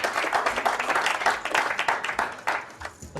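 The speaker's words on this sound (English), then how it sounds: "Let's get a big round of applause for all of our competitors at the final table." An audience at a poker final table breaks into a big round of applause, dense steady clapping that swells and then thins toward the end.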